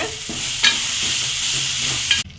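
Chopped tomatoes with coriander powder fry and get stirred in a pan, giving a steady close sizzle with scraping stir strokes that stops abruptly near the end.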